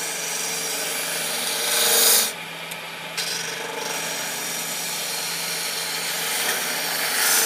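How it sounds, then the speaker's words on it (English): A gouge cuts a wooden spindle turning on a lathe, producing a loud, close, steady rasping hiss that dips briefly partway through and then carries on continuously with no talking. "And it's all about the swing on the gouge."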